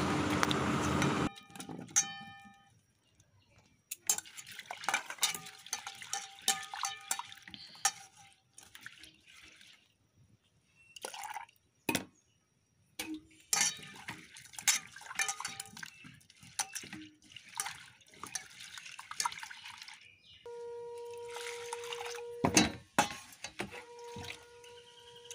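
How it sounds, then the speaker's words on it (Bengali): Water runs and splashes into a cooking pot of red lentils in a home kitchen, in several bursts with clinks of the pot and utensils, fairly close and alone with no talk. "পরিমাণ মতন জল দিয়ে মসুর ডালটা সেদ্ধতে বসিয়ে দিলাম"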